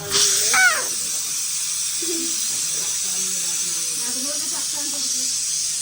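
A steady hiss of steam escaping from a pressure cooker cooking sambar runs throughout, with people talking over it.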